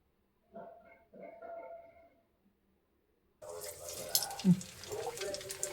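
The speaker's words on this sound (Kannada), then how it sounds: "ಇವಾಗ ಒಣಗಿದೆ ಹಪ್ಪಳ ಕರಿಯೋಣ ಎಣ್ಣೆ ಕೂಡ ಕಾದಿದೆ" Rice papad dropped into hot oil sizzles with a sudden, steady hiss and a few crackles, following a short stretch of speech and a pause.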